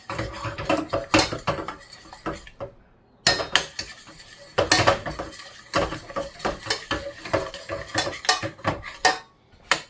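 A spoon scrapes and clinks against a pot of thick chicken gravy, irregular metallic knocks and scrapes in quick bursts with short pauses, close and clear.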